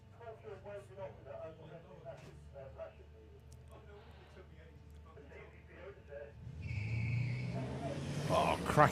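Trans Am and Toyota Supra drag racing cars at the start line; a commentator talks over a low idle, then engine roar swells loudly as they accelerate in the last few seconds.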